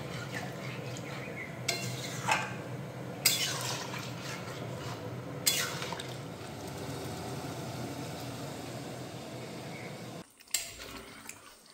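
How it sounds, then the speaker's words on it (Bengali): Water poured into a pan of Bengali egg curry. A low, steady liquid and bubbling wash runs under several sharp clinks of a utensil against the pan, and a final scraping stir follows. "এখন আমি পরিমাণ মতো জল দিয়ে দেব।"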